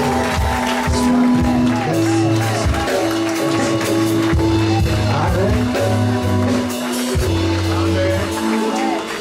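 Church congregation at a convention service cheering and acclaiming, a dense sustained wash of many voices with tonal singing-like lines running throughout, loud and continuous.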